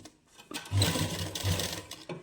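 A sewing machine stitches with a single presser foot while making a latkan tassel for a party-wear suit, a loud steady motor whir with a stop, restart and short pause, and no voices.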